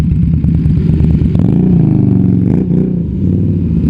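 An MV Agusta Superveloce 800 motorcycle engine revs loud and close, its pitch rising and falling across a few throttle blips over a rough idle.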